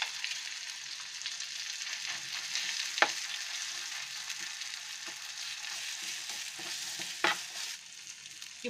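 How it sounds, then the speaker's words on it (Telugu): A ground paste of green chilli, ginger and curry leaves fries in oil, giving a steady soft sizzle with occasional spoon taps and stirring scrapes against the pan, fairly quiet and close. "మనం గ్రైండ్ చేసి పెట్టుకున్న పచ్చిమిర్చి, అల్లం, కరివేపాకు పేస్ట్ వేసి 1-2 నిమిషాలు వేయించుకోవాలి."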